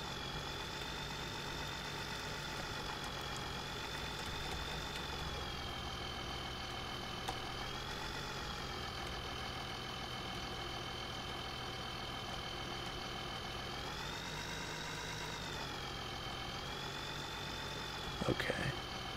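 A Dodge truck idles in Farming Simulator 17: a steady, even engine drone with a smooth hum that shifts slightly in pitch a few times and ends with a brief clatter.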